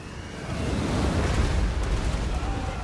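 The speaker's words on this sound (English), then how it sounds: "Cygor getting hit by some of the cannons." Cannon and artillery fire booms during a Warhammer Bretonnia versus Beastmen multiplayer battle, a dense continuous rumble of blasts with no clear single shots, steady and loud for the whole stretch.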